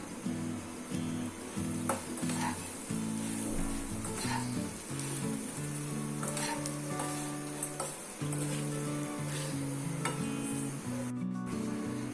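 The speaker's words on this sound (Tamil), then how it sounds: "இப்போ வந்து நல்லா கிளறி கொடுக்கலாம்." Puffed rice and fried egg upma is stirred in a hot pan, a continuous sizzle overlaid with repeated scraping and rubbing strokes, while a steady patterned hum runs beneath throughout.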